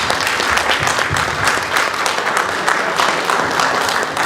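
A crowd at a gala dinner applauds steadily, dense clapping from many hands at a fairly loud, even level.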